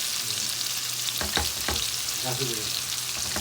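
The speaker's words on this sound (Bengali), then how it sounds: "এখানে গিয়ে মশলা কষিয়ে মাছ দিয়ে দিচ্ছি" Fish dropped into a pan of spices fried down in oil, giving a steady close sizzle with a few sharp stirring scrapes and clinks.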